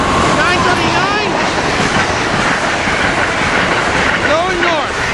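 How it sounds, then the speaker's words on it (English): Amtrak Carolinian Train 80 rolls northbound through Cornwells Heights close by, with steady clickety-clack from the rail joints and brief wheel squeals at the start and end. A voice speaks briefly over the passing train. "There goes the Carolinian Train 80, up earlier than scheduled."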